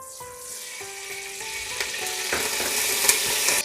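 Cooking oil poured into a pot on the stove for making popcorn, a soft hiss and sizzle that builds steadily and grows louder over a few seconds, with no voices.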